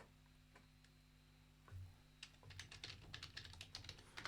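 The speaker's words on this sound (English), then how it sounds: "You can hear me typing." Rapid clacking of keys on a computer keyboard, sparse at first and then a quick, busy burst of typing close by.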